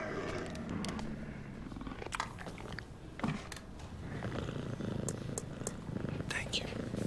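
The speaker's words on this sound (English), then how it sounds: "It's a puma." A puma purrs in a low, rumbling, continuous rhythm up close, with scattered clicks and soft rustles around it and no clear speech.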